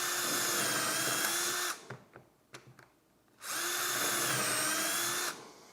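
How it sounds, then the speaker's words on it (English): A power drill bores holes in a wooden drawer box held in a jig: two sustained whining bursts of drilling, close and steady, separated by a short gap filled with clicks and handling knocks. "and drill my holes."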